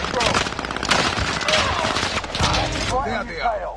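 Call of Duty gunfire rattles in rapid, dense automatic bursts, loud and near, while voices talk over parts of the firing.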